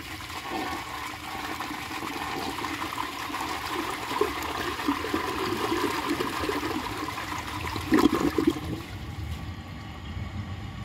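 A 1950 Case Camel toilet flushes with a long, steady rush of water that swirls for several seconds, gurgles near the end, then drops to a quieter trickle as the tank refills.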